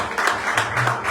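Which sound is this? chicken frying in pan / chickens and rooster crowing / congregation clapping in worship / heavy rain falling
congregation clapping in worship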